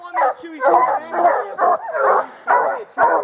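Hunting dogs on a black bear hunt in Utah bark and yip repeatedly in short, rhythmic bursts about every half second, close and loud, with some whimper-like tones mixed in.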